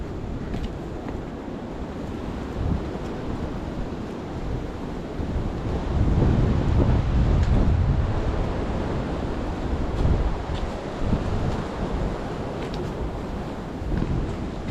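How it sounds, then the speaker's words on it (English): Strong, gusting wind roars over an exposed winter mountain trail on Grandfather Mountain, a loud continuous rush with heavier buffeting near the middle and no talking. "That wind is powerful."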